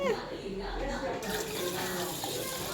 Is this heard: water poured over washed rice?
yes